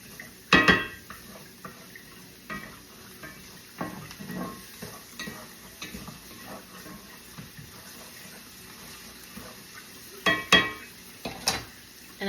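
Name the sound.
stirring chopped Vidalia onion in a pan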